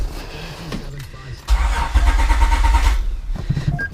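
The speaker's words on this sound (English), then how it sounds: "I'm actually gonna give it like 2 more cranks just to make sure that is the top" The starter cranks a Honda J32A3 V6 during a compression test with a rhythmic chugging whir, then a louder sustained run of cranking takes over. Both are close and loud.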